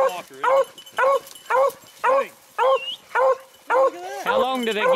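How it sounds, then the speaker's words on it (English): Beagles bark in a steady series of about nine loud, close yelps at a rabbit hunt in Ohio, each bark evenly spaced, ending in a cluster of overlapping whines and yips. "How many times they bark in a minute?"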